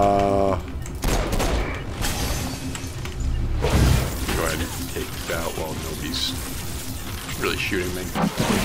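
Gunfire and shooting in the open-world action game Saints Row IV, busy layered bursts mixed with other game effects and someone talking throughout.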